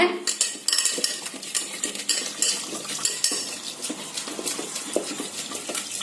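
Repeated scraping and clanking of a utensil mashing cooked toor dal (pigeon pea lentils) inside a metal pot, a busy close-up rhythm of mashing strokes.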